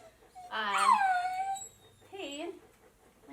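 A dog whimpers and whines indoors in two drawn-out, wavering cries, close and fairly loud, with a person briefly calling out between them.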